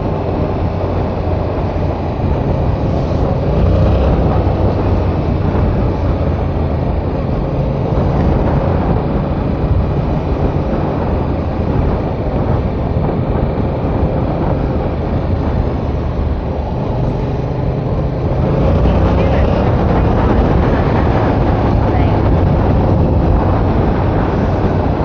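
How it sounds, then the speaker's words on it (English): A 2022 Yamaha R7 World GP 60th Anniversary edition with the CP2 parallel-twin engine shared with the MT-07, heard on the ride as a loud, continuous low drone of engine and wind noise that swells slightly near the end. "It's a nice sounding bike. It's a MT-07 CP2 engine."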